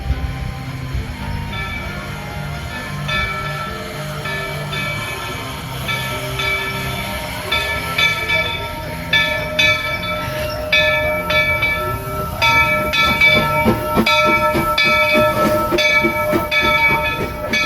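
A Walt Disney World Railroad steam train runs at the Magic Kingdom, its steady rumble and rhythmic wheel clatter carrying on throughout, with high ringing tones and hissing rising toward the end.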